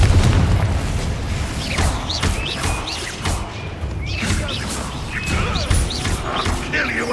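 Bombarda spell blasts in the Hogwarts Legacy game thud and boom repeatedly in quick bursts, mixed with whooshes and crashes of ongoing combat.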